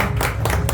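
An audience applauds to welcome speaker Mitbhai Desai at a youth career-guidance event, a brief burst of dense, close clapping.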